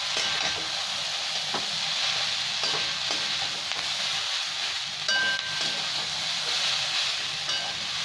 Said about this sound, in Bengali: চাউমিন মশলাটা দিয়ে দেবো। এবার এটাকে ভালো করে নেড়ে নেব।